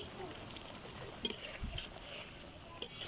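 Hilsa fish pieces turned in bubbling masala in a pan, with a low steady sizzle and faint stirring, a couple of sharp utensil taps standing out briefly against the hiss.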